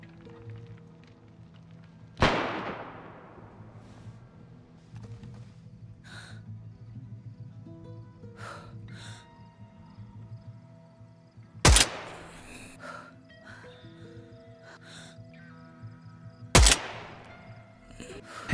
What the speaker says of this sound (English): He's shooting zombies.